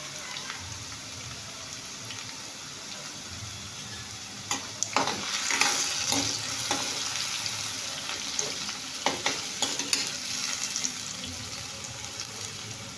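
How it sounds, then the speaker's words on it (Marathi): Diced potato fries in a pan for sabudana khichdi, giving a soft continuous sizzle with a faint running-water hiss behind it and a few clustered clatters of a spatula turning the pieces around the midpoint. "इथे तुम्ही पाहू शकता की आपला बटाटा चांगला फ्राय झालेला आहे।"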